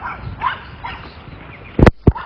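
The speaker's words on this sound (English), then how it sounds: "Those chihuahuas, man." Small chihuahuas bark in two sharp, loud yaps near the end, preceded by softer whimpering, yipping and background noise.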